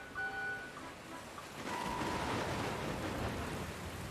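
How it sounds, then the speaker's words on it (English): Rain falling in Dragon Quest Builders 2 on PS4, a steady broadband hiss that swells and thickens partway through as a storm rolls in, with faint game tones early on and no talk. "where did this rain come from?"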